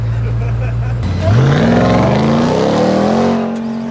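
Pickup truck engines rev up and accelerate hard nearby in a drag race, pitch climbing through gear changes as the trucks pull away, a speaking voice mixed in.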